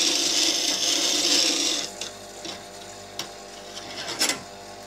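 A hand tool is sharpened against a grinding wheel, producing a loud rasping hiss for about two seconds that then stops, followed by quieter scattered clicks and scrapes.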